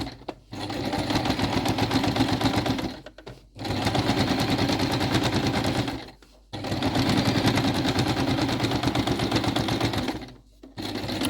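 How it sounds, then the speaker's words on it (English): A sewing machine topstitches a coat lining seam a couple of millimetres from the original seam, running in three long, even bursts of rapid stitching separated by short pauses. "we'll just top stitch it a couple of millimeters away from the original seam"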